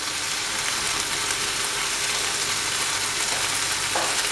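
Shredded cabbage fries in a pan with a constant loud hiss and sizzle, with light scraping as it is stirred, close up with no talk.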